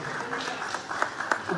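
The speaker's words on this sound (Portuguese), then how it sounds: "Os que podem, tomem seu assento aplaudindo a Jesus" Church congregation applauding during a sermon, a continuous wash of clapping with a few sharper claps standing out, brief and fairly close, with some speech likely mixed in.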